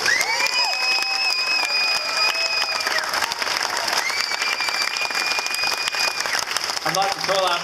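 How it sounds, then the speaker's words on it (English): A crowd at an outdoor anti-shark-cull rally in Perth applauds and cheers in a sustained roar, with whistles or tonal cries rising above and a voice coming in near the end. "So a big round of applause for them."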